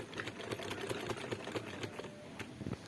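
Sewing machine stitching the hem of a kameez, with a faint, fast, even run of needle clatter over a few seconds and no talking.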